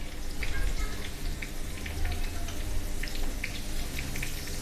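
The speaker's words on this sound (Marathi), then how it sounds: "तर असेच मी 2-3 पापड तळून दाखवते" Potato and sabudana papad fry in hot oil, giving a steady close bubbling sizzle with scattered crackling pops, heard alone without talk.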